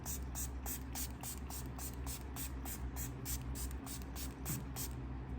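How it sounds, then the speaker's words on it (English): A normal spray bottle gives a rapid series of quick, soft hissing spritzes, about a dozen evenly spaced bursts, close and fairly quiet over a low background hum. "It's just a normal spray bottle."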